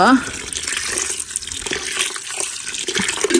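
Water splashes and runs steadily for a few seconds, close by, with a faint voice briefly at the start.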